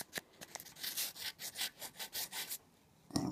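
Hand rubbing on the finish of a restored passenger car, a close, quiet series of about ten evenly paced back-and-forth strokes, each a soft abrasive swish, followed by a brief pause and a final scrape.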